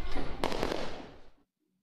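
Firecrackers and fireworks going off at a Tamil temple festival, a dense, loud crackling burst of rapid pops lasting over a second before cutting to silence.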